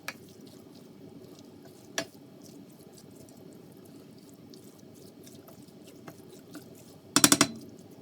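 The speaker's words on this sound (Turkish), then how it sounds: "Onun için iyice karıştırmam gerekiyor." A spoon stirring parsley into hot içli köfte filling in a pan, soft continuous scraping and shuffling close by, with a faint sizzle, a couple of light taps and a brief clatter of knocks near the end.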